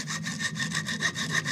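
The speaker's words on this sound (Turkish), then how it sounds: "Eğer demir testeresiyle kesersek" A hacksaw cuts through a PCB circuit board during homemade board making, giving quick, even back-and-forth rasping strokes, close and steady, with no voices.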